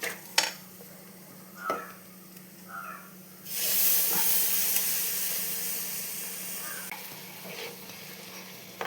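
Tamarind water poured into a hot pan of ribbonfish curry masala: a few light clinks, then a sudden loud, sustained hiss of sizzling that slowly eases, close up.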